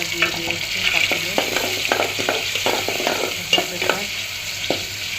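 Onion and bay leaves fry in a pot, giving a loud close sizzle under rapid, irregular stirring clatter, with no voices.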